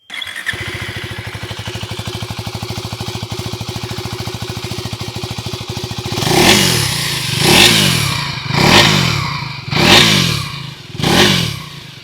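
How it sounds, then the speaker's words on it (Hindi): A 2026 KTM Duke 390 motorcycle with a 350cc engine idles with a steady, thumping exhaust note, then revs hard five times in quick succession, each blip rising and falling. "आइए अभी सुन लेते हैं इस बाइक की एग्जॉस्ट नोट।"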